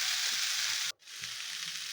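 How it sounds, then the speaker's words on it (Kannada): A tempering of cooked legumes and chilli fries in hot oil with a steady, bright sizzle. A sharp break cuts in partway through, then the sizzling returns a little softer. "ಚೆನ್ನಾಗಿ ಫ್ರೈ ಮಾಡಬೇಕು."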